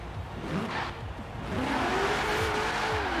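Ford F-100 pickup with a swapped engine driving in Forza Horizon 4, a moderate engine drone whose pitch rises and climbs steadily as it accelerates, with some tire noise.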